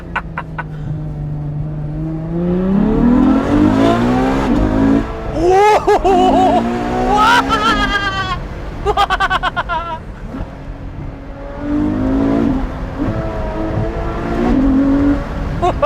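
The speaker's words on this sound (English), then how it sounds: "Listen to those downshifts." Ferrari F12 Berlinetta engine revving hard through a series of downshifts, with sharp rising and falling blips, loud and close, in repeated bursts.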